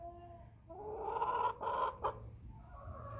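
A 21-week-old Chantecler x Bresse pullet clucks in a short, close run of throaty calls lasting a couple of seconds, with a low steady hum in the background and no talking.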